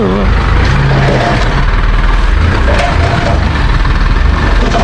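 A dump truck engine runs at a low, light rev on a dirt-hauling job, a loud, close, rumbling drone that stays fairly even with no speech over it.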